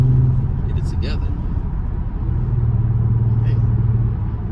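A Kia Stinger's turbocharged engine drones low and steady from inside the cabin on the road, a continuous rumble with a humming engine tone and no clear rise in pitch.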